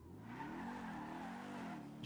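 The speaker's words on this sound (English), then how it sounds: "Just heard a car take off from here." A car pulling away in a NoPixel GTA roleplay game, a steady engine drone rising in pitch as it accelerates, heard at moderate distance without speech.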